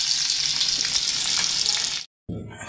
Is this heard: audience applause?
no